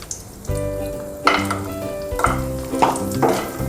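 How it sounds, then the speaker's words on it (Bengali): Biuli dal bori, small lentil dumplings, fry in oil with a crackling sizzle that surges in several bursts as they are moved about the pan, while steady tones hum underneath. "তাই এটা একটু ভালো করে ভেজে নিচ্ছি"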